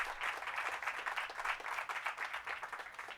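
Steady applause from a crowd at Bob Odenkirk's Hollywood Walk of Fame ceremony, many hands clapping together at an even, fairly loud level for a few seconds without letting up.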